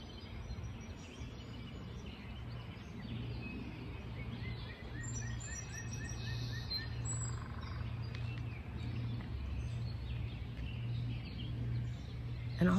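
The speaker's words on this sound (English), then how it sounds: "you can hear all the bird song and a woodpecker up in the tree" Faint birdsong with scattered chirps and calls, including a woodpecker up in a tree, over a steady low hum, quiet and somewhat distant throughout.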